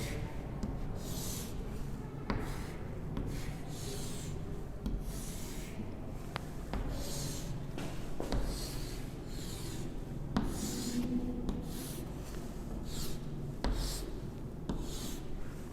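Chalk scraping and rubbing across a classroom board as a cube is drawn during a maths lesson, a steady run of close, dry strokes and taps with no talking.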